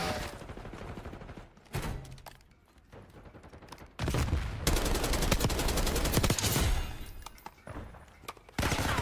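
Gunfire in a video game: bursts of rapid shots and sustained automatic fire, loud and dense, with brief lulls between volleys.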